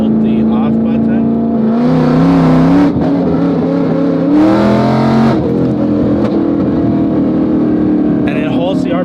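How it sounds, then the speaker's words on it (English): A Roush-equipped car engine idles and revs, holding steady RPM with rolling anti-lag, its tone rising and settling in sustained loud bursts alongside speech. "What we're going to do is test out the rolling anti-lag"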